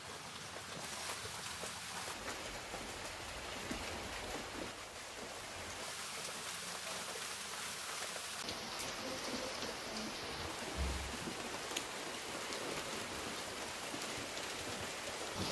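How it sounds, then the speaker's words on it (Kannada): Heavy rain pours outdoors where chicken is being cooked in a sealed clay pot over a wood-fired stove, a steady, dense hiss of drops on surfaces with no talking, holding even throughout. "ಜೋರಾಗಿ ಮಳೆ ಬರ್ತಾ ಇದೆ."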